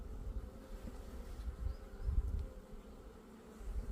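Honeybees buzzing steadily around an opened spring beehive frame during an inspection, a continuous low close drone that swells and fades slightly, with no voices.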